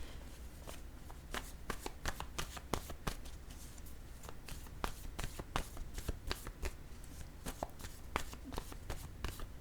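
Playing cards handled during a tarot-style card reading, a steady run of crisp, quick slaps and riffles close by, dense and fairly even in rhythm with no talk.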